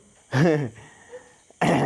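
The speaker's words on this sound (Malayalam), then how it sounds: "ചുമക്കുന്ന്" Two harsh bursts of coughing or throat clearing, close and loud, separated by a short quiet gap with faint background sounds.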